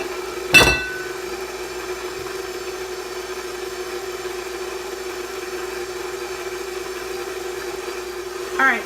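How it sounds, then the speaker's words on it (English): Stand mixer running steadily on low speed while mixing sourdough pretzel dough with milk and starter, a constant close motor hum with a couple of brief bumps or knocks, no talking over it. "We are going to turn our mixer on low now, and we're going to add in our milk, and our sourdough starter."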